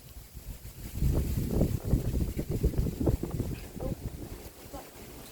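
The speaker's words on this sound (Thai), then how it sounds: "ลมแรงมากเลยทุกท่าน" Strong, dry wind buffets an outdoor microphone in gusty, rumbling surges, with people talking underneath.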